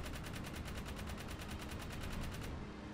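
A gun in the Jak 3 game fires in rapid, even automatic bursts, loud and continuous for almost three seconds before cutting off.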